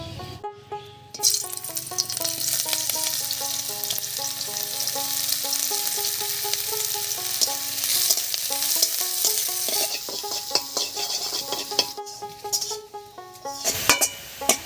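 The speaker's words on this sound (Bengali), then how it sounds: "এই তেলের মধ্যে বেরেস্তার মতন করে পেঁয়াজটা ভেজে নেব।" Sliced onions frying in hot mustard oil in a kadai until crisp, with a steady, close sizzle and intermittent stirring and clinks of a metal utensil; quiet background music plays throughout.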